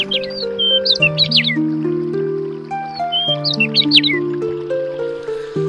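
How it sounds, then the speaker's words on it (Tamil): Birds chirp and caw in short, sharp bursts over a steady melodic tune, the calls coming in two bright clusters. "குருவிகளின் ரீங்காரமும்"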